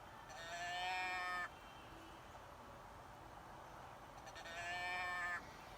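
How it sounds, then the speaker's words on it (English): Someone blows a doe bleat deer call twice, each a drawn-out nasal bleat of about a second, separated by a few seconds of quiet outdoor background noise. "it's just a simple doe bleat"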